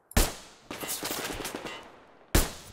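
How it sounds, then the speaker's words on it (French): A pump-action shotgun fires in the video game Survarium, one sharp blast followed by a rattling burst and then another loud shot, close and punchy, with no talking. "c'est un fusil à pompe"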